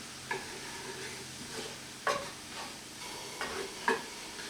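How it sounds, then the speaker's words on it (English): Onions and a hot dog bun sizzling and steaming on a grill, a steady close frying hiss broken by several sharp crackling pops. "You hear it over there? These onions are steaming."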